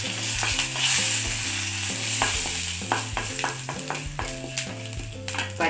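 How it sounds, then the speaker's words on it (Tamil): Asafoetida, dried red chillies, curry leaves and chana dal fry in hot oil with a steady bright sizzle and occasional stirring, under background music. "பெருங்காயத்தூள், 2 வரமிளகாய், கருவேப்பிலை, கடலைப்பருப்பு நல்லா ரோஸ்ட் ஆகணும்."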